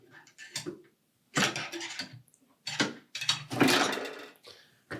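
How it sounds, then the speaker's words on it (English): An old fan blade pried off a refrigerator fan motor shaft with pliers: close, faint metallic clicks and scraping bursts, then a few sharper clattering pops. "Just pop that old blade off of there."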